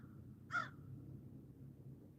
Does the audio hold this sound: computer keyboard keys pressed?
no